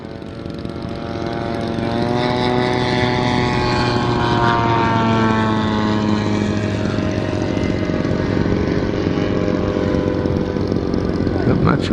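An RC Horten HO 229 flying wing model plane flies at a Joe Nall 2025 meet, its engine a steady, loud droning whine with shifting pitch that runs continuously throughout, with a voice talking underneath.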